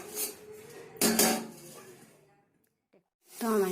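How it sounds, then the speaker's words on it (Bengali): A metal lid set onto a cooking pot on a low gas flame, a clattering clank at the start and another at about one second, with someone talking between the clinks and a quieter gap afterward. "তো চলো ঢাকাটা দিয়ে দিই"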